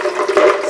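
Ice water pours into a Vitamix blender for a brief, close, continuous splashing fill with no talk over it.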